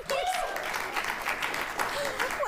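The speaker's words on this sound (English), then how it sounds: "Thank you for the delayed clap on that one" A television talk show's studio audience claps late, a dense burst of applause that continues throughout while a host talks over it.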